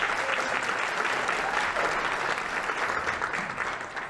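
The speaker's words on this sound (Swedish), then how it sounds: "En stor applåd för Niklas Östlind." An audience applauds a speaker at a photography talk event, dense sustained clapping that holds steady throughout and fades slightly at the end, with a few voices faintly mixed in.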